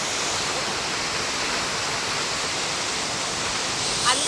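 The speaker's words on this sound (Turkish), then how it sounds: "Yalnız ne kadar tazikli dökülüyor su." Steady, dense roar of water pouring forcefully down a waterfall in Jeju, a constant broadband rush heard up close with no break and no speech.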